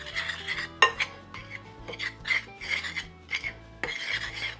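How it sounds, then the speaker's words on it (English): Frozen butter is worked by hand into dry ingredients for gluten-free bread, heard as close rasping scrapes and rubs in uneven bursts, with a sharp clink partway through and no talk. "I just go ahead and I just start mixing it in with the dry ingredients"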